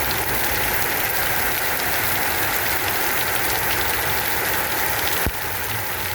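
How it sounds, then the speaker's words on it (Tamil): Heavy rain pouring down in Vavuniya, a dense, steady hiss and patter close by, loud and unbroken throughout, with one brief knock near the end and no talking. "நான் வவுனியாவில் இப்படி ஒரு மழை எதிர்பார்க்காத மழைன்னா சொல்லலாம், கொட்டுது"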